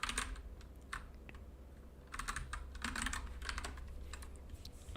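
Typing on a computer keyboard: bursts of quick, light key clicks in irregular clusters, close and fairly quiet, with no talking.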